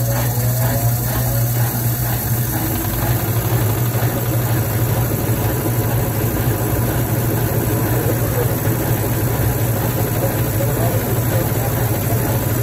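A 1/3 horsepower Velling electric motor in a washing machine hums continuously at a client's home, a steady low drone with constant vibration and no change in level throughout.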